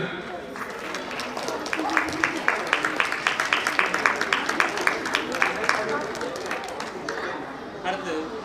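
An audience at a Tamil school graduation ceremony in Dayton, USA, claps steadily and rhythmically. The claps swell to a sustained, even pace and then fade, with some voices and chatter underneath.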